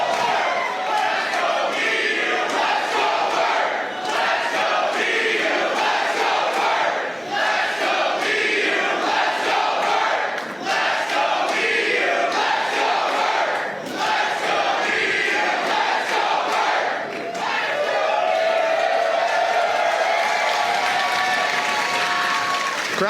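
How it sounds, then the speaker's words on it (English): A wrestling crowd in a Seattle venue roars continuously before a women's title match, with sustained applause, shouting and cheering at full volume throughout, and chant-like swells toward the end. "Crowd is fired up and ready to go here tonight."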